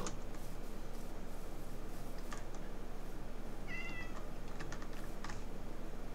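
A cat in the video game Minecraft gives a short, high meow near the middle of a stretch of steady keyboard typing and clicking, all at low volume.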